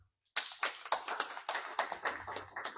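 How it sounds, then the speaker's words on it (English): Clapping for the Honorable Minister at a labour ministry press briefing starts abruptly after a moment of silence, a small group of close, sharp claps in an uneven rhythm with no talk over it. "I want to clap for the Honorable Minister."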